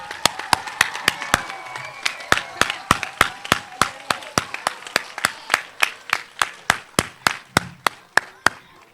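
At a Mount Auburn school ribbon-cutting in Texas, a few people clap together in a steady, rhythmic beat, crisp and evenly spaced, close by and without talk.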